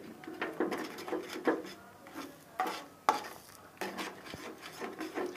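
Eggs being stirred into a masala mixture in a pan over a low flame for egg Maggi, with soft repeated scraping and rubbing strokes at an uneven rhythm, close and fairly quiet.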